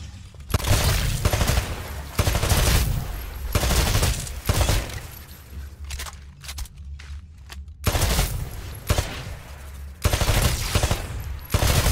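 Rifle gunfire at shooting-range targets in Titanfall on PC: repeated loud bursts of rapid automatic fire, close and dominant, broken by brief pauses and a quieter stretch in the middle.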